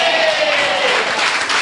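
A church congregation claps hands during a Sunday service, a loud, dense burst of many hands close by, with a voice or tonal sound faintly gliding underneath.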